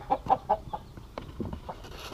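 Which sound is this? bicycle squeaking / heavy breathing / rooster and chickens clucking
rooster and chickens clucking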